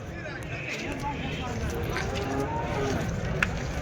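Cattle low amid a busy, noisy crowd at a weekly cattle market in Chintamani, with people talking loudly nearby throughout.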